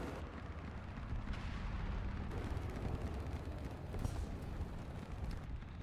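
Tank cannon fire in the War Thunder video game, a steady, heavy rumbling roar of booming gunfire and battle noise that carries through the whole stretch with no talking.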